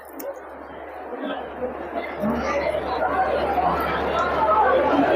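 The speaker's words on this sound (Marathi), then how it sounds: "खूप सगळी गर्दी आहे." Dense crowd chatter at the Bhimthadi Jatra, a busy fair on its opening day, many overlapping voices forming a steady, fairly loud murmur throughout.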